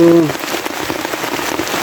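Rain falls in the countryside during a fishing trip, a steady dense patter after a brief voice at the start.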